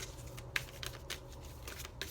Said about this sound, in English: I'm doing shuffle since nothing's come out yet.